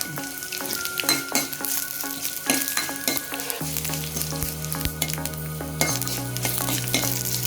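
Dried red chillies frying in hot oil in a pan for gongura pulusu, a steady close sizzle with crackles, stirring and scraping of a utensil, and a low hum from the kitchen underneath.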